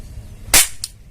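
A toy cap gun fires a Diwali cap with one sharp, loud crack, followed moments later by a fainter second pop over a quiet background.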